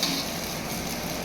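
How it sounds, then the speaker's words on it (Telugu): An egg fries with green chillies on a restaurant kitchen pan, giving a close, loud, steady sizzle with faint stirring, no voices. "ఎగ్ అయితే మంచిగా ఫ్రై అయిన తర్వాత మనకైతే పచ్చిమిర్చి అయితే యాడ్ చేశారు"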